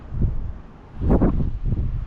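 Gusty wind buffets the microphone in low rumbling bursts, swelling and easing over a couple of seconds outdoors.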